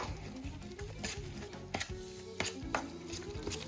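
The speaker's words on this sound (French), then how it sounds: "Et maintenant, on va mélanger le tout." Latke batter of grated potato, flour, salt and pepper being stirred in a bowl, with steady scraping and wet mixing sounds and a few sharper clinks of the utensil against the bowl.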